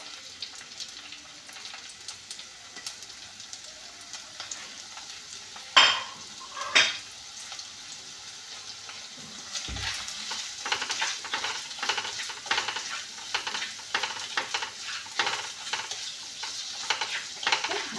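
Finely sliced onion, one large bulb, sizzles and fries in a hot pan while being stirred, with steady crackling and repeated spoon scrapes against the metal, a few sharper knocks early on, no talking.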